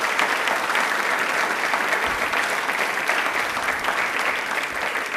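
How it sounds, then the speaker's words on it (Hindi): A studio audience at a televised Indian Railways quiz show breaks into dense, steady applause that holds at full strength for about five seconds with no one speaking over it. "प्लीज एक बार जोरदार तालियां हो जाए वापस से"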